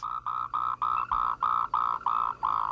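Frogs call at night in a forest, among them Sauter's brown frog, the pango toad, Swinhoe's brown frog and Moltrecht's green tree frog; one close, loud voice repeats a steady pulsing note about nine times in even rhythm.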